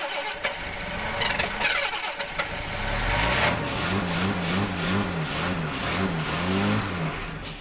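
A 1978 Jaguar XJ6 pulled from a barn cranks and fires for the first time in 24 years, catching about three seconds in, then running loud and steady with a rhythmic, slightly uneven idle pulse.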